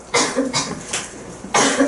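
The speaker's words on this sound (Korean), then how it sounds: "갑자기 기침 나오지." A teacher in a Korean middle-school math class coughs about four times in quick succession. The dry, sharp coughs come close and loud, with short gaps between them and no talking.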